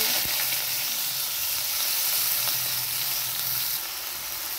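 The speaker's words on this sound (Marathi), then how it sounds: "तेलामध्ये ना आता आपण सुरुवातीला वांगे परतून घेऊ." Chopped eggplant sautéing in hot oil with salt, giving a steady, close sizzle and crackle that holds evenly throughout and eases slightly near the end.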